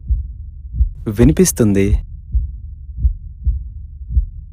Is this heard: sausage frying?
no